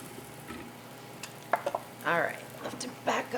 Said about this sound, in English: Got to sizzle.